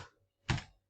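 Computer keyboard key being pressed, a soft faint click followed by a single sharper, louder clack, close and isolated in a quiet room.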